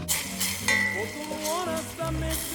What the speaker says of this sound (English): For the next 5 minutes I'm just going to be stirring the bacon, keeping it moving in the pan